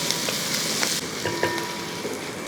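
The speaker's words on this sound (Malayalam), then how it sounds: "ഇനി ഇതെല്ലാം കൂടെ ഒന്ന് ഇളക്കി ഉള്ളിയൊക്കെ ചെറുതായിട്ടൊന്ന് ഫ്രൈ ആക്കി എടുക്കും" Shallots fry in a pan while being stirred, a close bright sizzle broken by a few spatula scrapes and clicks, with no one talking.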